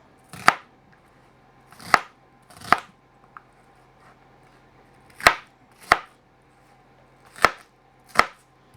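Knife chopping vegetables on a cutting board for a roast, seven crisp separate chops in loose groups with short pauses between, close and clear over a quiet background.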